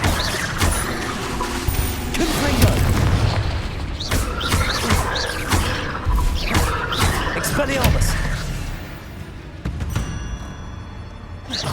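In the video game Hogwarts Legacy, a Confringo spell sets off repeated booming explosions, mixed with other spell-casting effects. A voice shouts over the loud, irregular bursts throughout.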